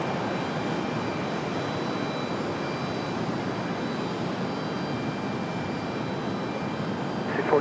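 An Airbus A320 jet airliner arriving at Raleigh-Durham airport gives a steady, broad engine roar that holds at an even level throughout, distant and unbroken with no talk over it.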